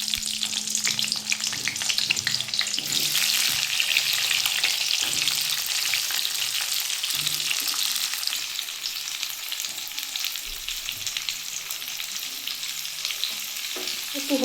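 Pointed gourd fries in hot oil with a constant crackling sizzle and occasional stirring noises close by, with no one talking.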